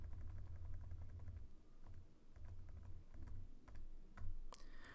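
Fingers type on a computer keyboard during Python programming, a steady run of quick close clicks and key taps with brief pauses between bursts, fairly quiet and with no voices.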